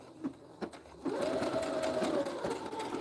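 A sewing machine stitches through paper and fabric, a few soft clicks and then a steady close whirring run of stitching.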